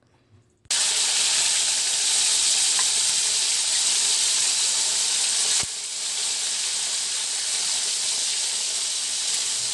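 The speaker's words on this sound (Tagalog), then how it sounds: "natirang isda para sa pinirito. Ayan. Ang bango niya mga kabibilab kapag may bawang" Fish fries in hot oil with garlic, a loud, steady sizzle that bursts in suddenly and holds constant, with a brief dip midway and no talking.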